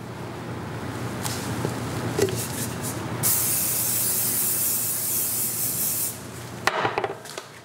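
Hair spray hisses onto bangs in one long steady burst of about three seconds, close and loud, with shorter spray puffs before and after.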